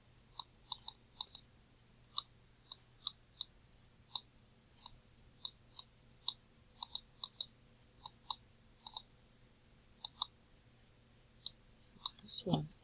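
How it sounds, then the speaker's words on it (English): Sharp, quiet clicks of a computer mouse repeat at an irregular pace in a near-silent room, ending with a soft brief bump. "listen to all that clicking."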